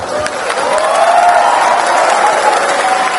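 Audience applause at a student dialogue event in Pontianak, a steady dense clapping and crowd noise lasting the whole moment, fairly loud and even.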